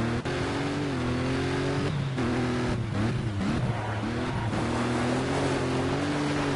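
A rally car engine roars in the Dirt 2 video game while drifting, a loud continuous drone with pitch rising and dipping as the revs change, alone without talk.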